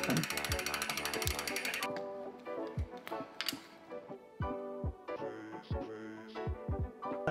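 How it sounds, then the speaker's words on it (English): A hand ratchet works loose the crank arm bolt on a cross-country bicycle, giving rapid rhythmic clicking strokes close up, in several bursts with short pauses. "All I've done is take the crank arm bolt out."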